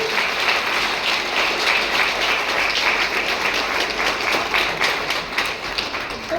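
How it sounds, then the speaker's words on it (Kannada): A large crowd at an outdoor public event in Mysuru applauds loudly and steadily, dense sustained clapping filling the whole stretch without pause. "ಕಾಲು ಚಪ್ಪಾಳೆ ಶಬ್ದ"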